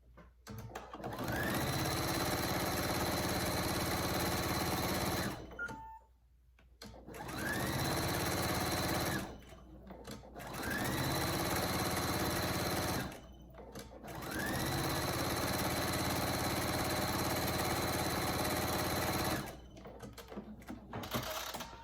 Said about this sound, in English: you're going to sew about a 1/2 inch all the way around